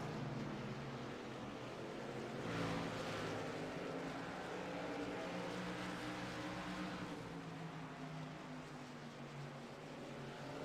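A race truck engine roars in a truck racing video game at North Wilkesboro, a continuous loud drone with pitch swells as trucks battle side by side.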